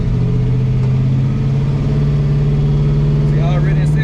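A V8-swapped Chevrolet S10 pickup on its first drive, its engine droning loud and close as it pulls through the gears, with a voice talking over it near the end.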